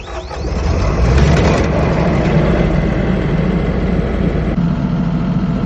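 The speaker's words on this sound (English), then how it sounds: "Let the glow plugs warm up because it's a diesel engine." A diesel engine with glow plugs, powering a sprinkler winterizing setup, turns over and catches, then settles into a loud, steady low rumble running close by without a break.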